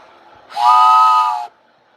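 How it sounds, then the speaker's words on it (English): A single loud, steady toy train whistle blast lasting about a second, breathy and multi-toned, then quiet. "There you go. There's the train whistle."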